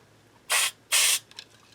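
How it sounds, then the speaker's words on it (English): Cleaner sprays onto the tuning pegs of an LTD Deluxe guitar during a restring, two short, crisp aerosol bursts in quick succession, close and loud, followed by faint handling clicks. "little tiny spray is all it takes"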